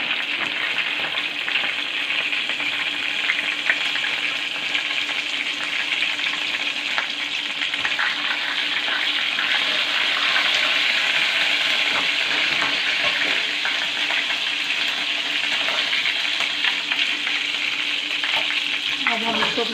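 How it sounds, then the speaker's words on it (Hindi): Cumin seeds frying in hot oil for a lentil dal tempering, a loud, steady, dense crackling sizzle that runs unbroken for the whole stretch, close up. "इसमें हमने 1 टेबलस्पून ज़ीरे का डालना है और इसको अच्छे से तराड़ लेंगे।"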